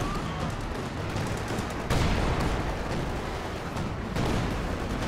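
Company of Heroes 2 battle with a howitzer barrage landing amid gunfire: a constant dense crackle of shots, broken by two loud shell impacts about two seconds apart, near and heavy.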